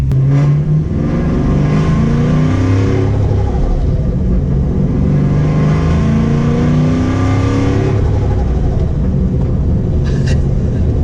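A loud, close supercharged 2015 Camaro SS engine drones and revs continuously, its pitch rising and falling through gear changes, with a brief blow-off valve hiss near the end.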